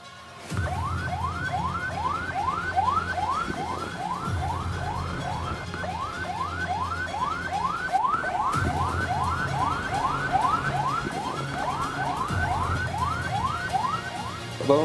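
An ambulance siren wailing in fast repeated rising sweeps, loud and continuous over a low engine rumble.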